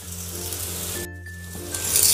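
Onion frying in hot oil sizzles steadily as turmeric and crushed pigeon pea grains go into the pan, with a brief dip and then a louder hiss as they hit the oil.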